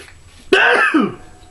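A man's sneeze, one sharp burst followed by a shorter second gasp-like exhale, close and fairly loud against a quiet room.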